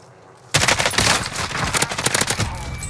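Rapid video game gunfire erupts after a half-second of quiet, dense bursts of automatic shots rattling on loud and close for the rest of the clip.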